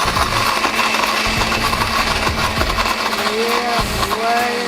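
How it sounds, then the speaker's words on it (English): A blender grinds hard Jolly Rancher candies, loud motor whirring with rattling, clattering chunks knocking against the jar throughout, close and continuous. "so I just added the Jolly Ranchers to the blender."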